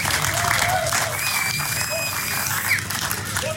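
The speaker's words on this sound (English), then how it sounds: "can you give yourselves a big round of applause?" Applause and cheering from a crowd at a live barbecue and beer roadshow event, a steady dense patter of clapping throughout with voices and whistles mixed in, fairly loud and close.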